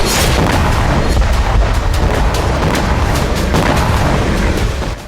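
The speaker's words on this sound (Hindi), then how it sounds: "हूती ने दागी मिसाइल, टारगेट यूएस इजराइल" A missile launch and explosion from a Houthi attack, heard as a continuous loud, dense roar with crackling bursts throughout, fading slightly at the end.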